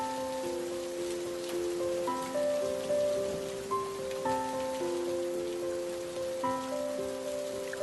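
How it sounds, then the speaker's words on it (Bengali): Cartoon rain falls steadily as a constant patter under a bright melodic music track that plays throughout. "সারা দিন একরকম বৃষ্টি হয়ে আসছে"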